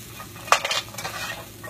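Meat-free crumble sizzles in a hot pan as it is flipped, with a brief scraping clatter of the spatula and a low, steady frying hiss.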